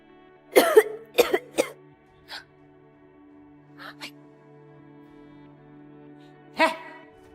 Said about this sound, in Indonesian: kamu kenapa batuk-batuk, ha?